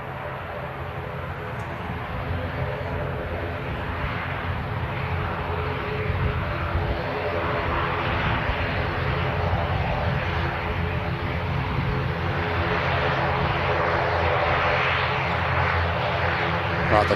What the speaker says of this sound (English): Rather slow taxi from the ATR